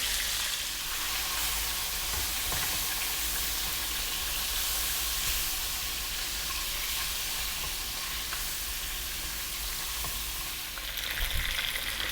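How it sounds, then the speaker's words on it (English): Chicken breasts and legs frying in a pan over medium heat, a steady, even sizzle and hiss that runs unbroken, with a few faint bumps near the end. "I'm going to put the heat on medium now, and we're going to fry this around for about 6 or 7 minutes."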